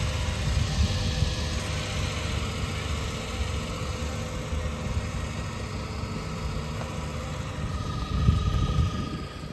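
An engine running on a lobe pump setup with a wrongly set choke, a steady, loud, low idling rumble with vibration that holds throughout and swells slightly near the end.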